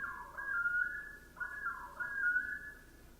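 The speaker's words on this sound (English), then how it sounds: "So that's a common loon" Common loon calling: two long, wavering whistled wails, each rising and falling, repeated with a short gap between them, clear and fairly close with no talking.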